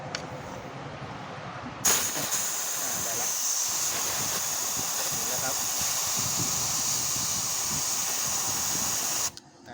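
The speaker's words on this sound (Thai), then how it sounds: "อ่าเดี๋ยวเราใช้ปั๊มอ่าใช้ปืนลม" Compressed-air gun blasting air through a Stihl MS180 chainsaw under repair for a bar-oil pump that won't deliver, a loud continuous hiss kicking in sharply and running steadily for several seconds before cutting off, with a voice talking underneath.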